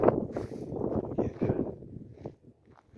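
Gusty wind blows across an outdoor campsite near Las Vegas, a rough, rumbling buffeting close to the microphone that fades toward the end.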